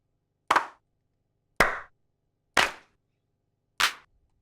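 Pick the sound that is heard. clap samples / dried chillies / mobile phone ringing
clap samples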